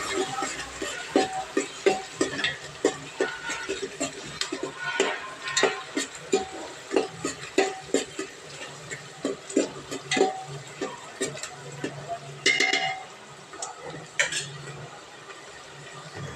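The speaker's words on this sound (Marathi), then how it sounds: "त्या कांद्यांना छान आता कलर बदलेपर्यंत परतवून घ्यायचंय" Two medium onions sauté in butter with cumin in a pan for pav bhaji, a soft sizzle under repeated sharp clicks and scrapes of a spoon stirring against the metal in an uneven rhythm.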